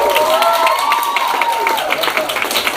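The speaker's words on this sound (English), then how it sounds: "Can we have a big round of applause?" Audience at a book club Q&A meeting applauding and cheering, a dense, steady wash of clapping and crowd noise lasting the whole stretch, with a thin whistle-like tone riding over it.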